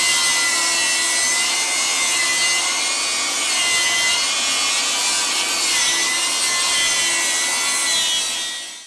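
A Milwaukee Fuel cordless 8-1/4 in. table saw (2736-21HD) rips smoothly through wood, a loud, continuous whining cut held close up with no bogging, trailing off at the end.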